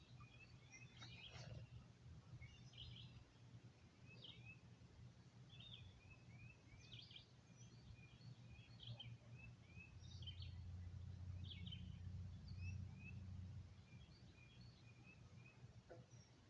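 Birds call near open water in Harford County, Maryland, with scattered short chirps and tweets over a steady low outdoor rumble, fairly faint and distant throughout.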